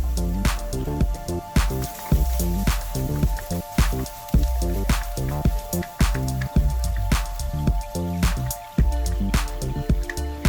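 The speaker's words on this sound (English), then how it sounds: "Add in 2 tablespoons of oil. Add in the garlic and stir them." Minced garlic fries in two tablespoons of oil in a pan for a beancurd sauce, with repeated squishy scraping strokes of stirring and a steady sizzle underneath, close and fairly loud.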